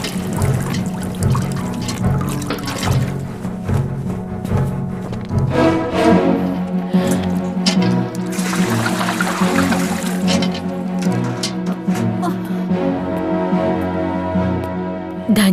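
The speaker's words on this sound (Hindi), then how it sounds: "जाओ इसका मटका पानी से भर दो।" Water pours steadily into a clay pot, a continuous close splashing and gurgling flow that runs for the whole stretch with slight swells in intensity.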